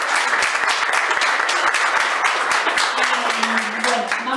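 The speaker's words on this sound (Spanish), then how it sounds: "Un aplauso muy grande entonces para el chico." A crowd applauds steadily with dense clapping throughout, fairly close, with a voice briefly rising near the end.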